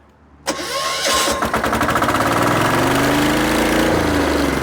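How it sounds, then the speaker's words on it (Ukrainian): A walk-behind tractor's diesel engine cranks and catches, then settles into a loud, rapid chugging idle that continues steadily, close by. "Дуже приємно слухати, як відгукується двигун"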